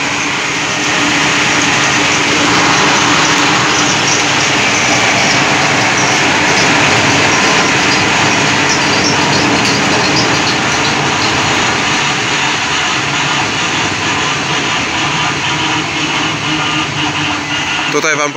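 An electric motor drives a generator on the Pati Power 1.2 setup, putting out about 230 W at 56 Hz. A loud, steady, dense mechanical whir and hum runs unbroken throughout.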